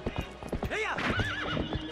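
Epona the horse in Twilight Princess HD, with rhythmic hoof clip-clops up close and a loud, wavering neigh in the middle, under a faint voice.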